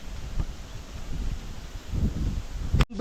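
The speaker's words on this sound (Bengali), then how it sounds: "দেখো কেমন ঝড় উঠে গেছে" Strong storm wind gusts across an outdoor cooking spot, a steady rough roar with rustling bursts that swell near the end before a sudden cut-off.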